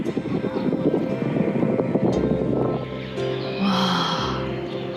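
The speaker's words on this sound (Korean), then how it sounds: "바람 부는 것도 진짜 조심해야 되고" Wind gusts blow steadily at a cliff edge in Meteora, Greece, a broad rushing roar buffeting close to the microphone, with a faint whistle near the end.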